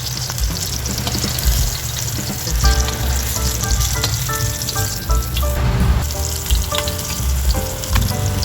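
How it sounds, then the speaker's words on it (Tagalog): Bangus (milkfish) frying in oil, a continuous dense sizzle with scattered crackles and faint clinks of utensils, close and steady throughout. "Nakapagprito na tayo guys ng ating bangus."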